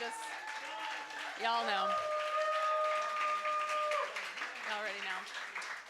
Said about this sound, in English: I just want to give one more round of applause